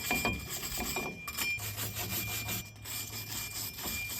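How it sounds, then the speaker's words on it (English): Wire brush scrubbing the rear brake hub of a Silverado pickup by hand, a close, steady run of rough back-and-forth rasping strokes with no talking. "I'm just gonna take a wire brush and I'm just gonna scrub down the hub itself"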